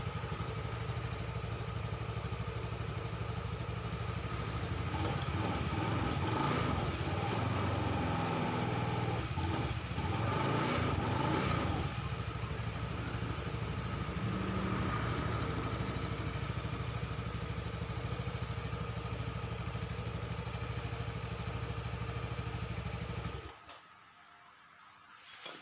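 A Honda Vario 110 fi scooter engine idles steadily and smoothly after a CVT pulley and bushing repair, a close, even drone lasting over twenty seconds before cutting off abruptly.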